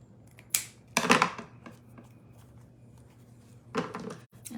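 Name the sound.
scissors cutting ribbon for a door hanger bow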